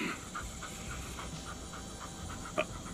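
An old dog pants in a quick, steady rhythm of soft, close breaths, with no voices over it.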